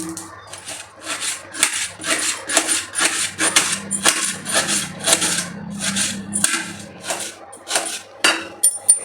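Onions are chopped on a kitchen board with a knife in quick, repeated strokes, each chop a crisp woody thud followed by a short scrape, loud and close in an uneven rhythm.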